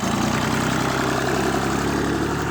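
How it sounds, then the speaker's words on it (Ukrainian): A tractor engine idles steadily and loudly up close, a continuous low rumbling drone with constant vibration in a field during plowing work. "а трактор йде на холостому"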